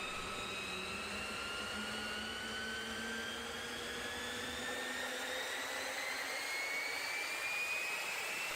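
Bristol Siddeley Orpheus turbojet of the 1950s Bluebird K7 hydroplane, a loud continuous roar with a rising whine that climbs steadily in pitch, no voices.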